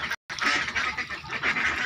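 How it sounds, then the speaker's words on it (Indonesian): A flock of 14-day-old meat ducks feeds on papaya leaves close by, giving a continuous busy stream of soft quacks and dabbling calls with no talk. "bebek-bebek ini memakan daun pepaya"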